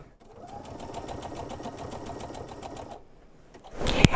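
A sewing machine stitches a serpentine stitch in steady, rapid mechanical rhythm for about three seconds, then stops, followed by a brief clatter at the end.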